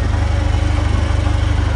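An old engine that smokes from the exhaust idles steadily up close, a loud, even low chugging pulse with no talk.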